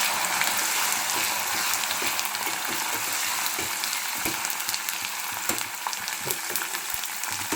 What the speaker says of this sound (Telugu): కరివేపాకు వేసుకొని అయితే కలుపుకోవాలి